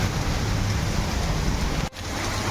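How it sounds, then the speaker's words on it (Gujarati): Heavy monsoon rain pouring down in a dense, roaring wash in Keshod, Gujarat, close and loud, with a brief dropout near the end before the downpour resumes. "બહુ જોરદાર આવે છે વરસાદ."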